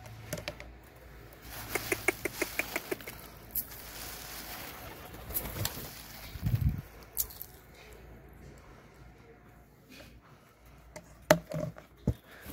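Golla pigeons in a pigeon house, with soft low coos and bird calls among wing flutters, rustling and scattered knocks, moderately close and fairly quiet.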